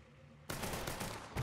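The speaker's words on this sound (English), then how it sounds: "A couple more shots and you got him." Gunfire erupts in Mafia III during a boss fight: a loud, sustained volley of rapid shots bursts in after a short quiet lead-in and keeps hammering densely, with a heavier hit near the end.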